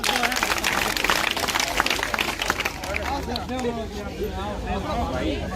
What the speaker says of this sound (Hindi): तालियां बजाओ बेटा।